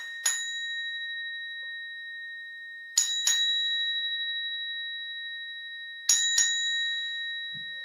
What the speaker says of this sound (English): I'll ring the bell to formally close us out